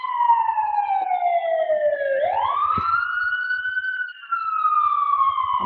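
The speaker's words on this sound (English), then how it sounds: "Loud siren." A fire truck siren passes nearby, a loud wailing tone that falls, then sweeps sharply upward and holds high before easing off, with faint low traffic rumble beneath.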